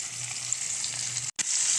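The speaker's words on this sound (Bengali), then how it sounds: "চলছে মাছ ভাজা" Hilsa fish frying in oil over a wood-fired stove late at night gives a steady, close hiss and crackle that cuts out abruptly for a moment before resuming.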